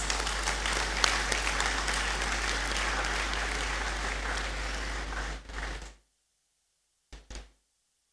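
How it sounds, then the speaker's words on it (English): Sustained applause from a graduation congregation audience in a great hall, steady clapping for about five seconds before cutting off abruptly, followed by silence and a couple of brief thuds. "Mr. Boache Yadom deserves a big hand of applause"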